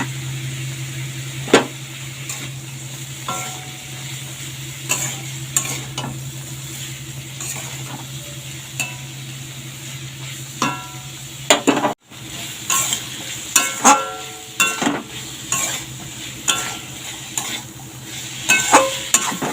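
Ghatkol stems, already boiled, are stirred and fried in a pan with green chilli, giving a steady sizzle broken by irregular scraping and clinking strokes of the spoon against the pan, close and moderately loud.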